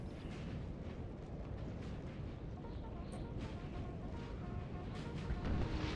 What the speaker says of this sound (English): Artillery still firing.